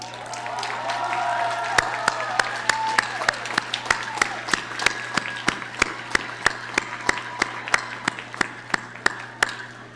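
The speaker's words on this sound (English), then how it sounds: "give an applause to your support group in the back" Graduates stand at a digital design graduation ceremony and applaud their supporters at the back of the hall. The crisp, fairly sparse claps grow into a steady patter while a voice talks over them.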